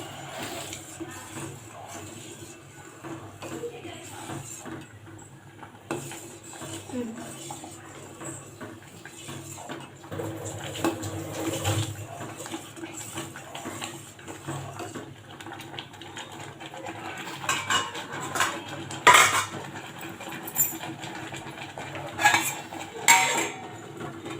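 A spoon scrapes and clinks against a thick pot while food for undrallu is stirred over low heat, irregular metallic taps and scrapes growing louder and more frequent toward the end, with quiet background noise throughout.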